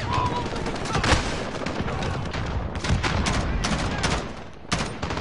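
Sustained automatic gunfire from a machine gun in Call of Duty: Modern Warfare (2019) campaign, dense overlapping bursts with booming impacts throughout, loud and continuous with a brief lull near the end.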